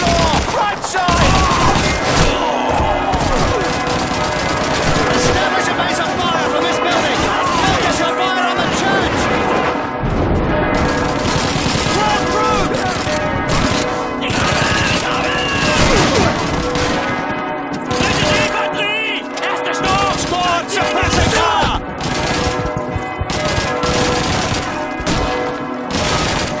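Call of Duty 2 battle gunfire around a church: loud, sustained volleys of rifle and machine-gun shots with sharp repeated cracks, close and dense throughout, while soldiers shout over the shooting.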